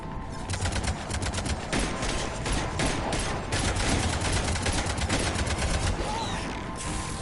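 Rapid, sustained bursts of heavy weapon fire from video game cannons, loud and continuous with dense overlapping blasts throughout.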